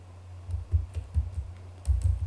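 Switch configuration commands typed on a computer keyboard, a close, uneven run of key clicks and taps in small bursts with short pauses, no talking.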